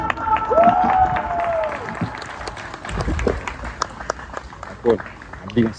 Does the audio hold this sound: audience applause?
yes